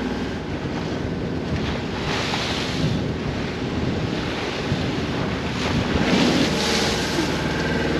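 Strong wind and big breaking seas around a sailing boat in the Hauraki Gulf, heard as a loud, steady roar of wind buffeting the microphone over surging, crashing waves that swell toward the end.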